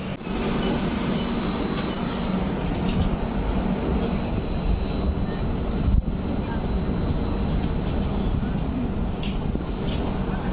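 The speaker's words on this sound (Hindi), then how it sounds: "तो अपने निर्धारित समय से हमारी ट्रेन मिर्ज़ापुर स्टेशन से डिपार्ट हो रही है।" Sampoorn Kranti Express pulling out of Mirzapur station, a steady, loud rumble of rolling wheels and carriage noise with a thin high whine running throughout.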